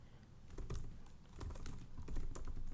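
Code being typed on a computer keyboard, a steady run of close, crisp key clicks in uneven bursts with no talking.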